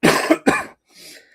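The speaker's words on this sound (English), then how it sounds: "I'm a little under the weather, so if I keep coughing, I apologize" A man with a cold gives two quick, raspy coughs up close, followed by a soft breathy exhale after a short pause.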